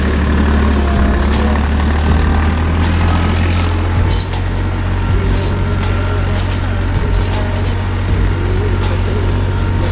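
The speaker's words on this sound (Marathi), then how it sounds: "आपलं ट्रॅक्टर बऱ्यापासून चालतंय." A farm tractor's diesel engine idles and runs steadily nearby, a continuous deep rumble with a low throb holding throughout, joined by a few faint clicks.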